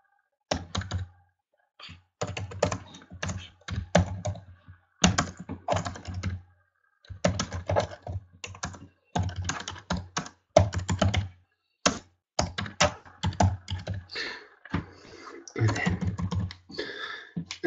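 Steady typing on a computer keyboard, close and crisp, in uneven bursts of key clicks separated by short pauses, with no voices over it.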